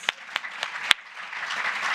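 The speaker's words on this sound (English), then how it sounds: "Give them a clap," Audience in a lecture hall at the British Library clapping, a few distinct sharp claps at first that swell into soft, scattered applause from a modest crowd.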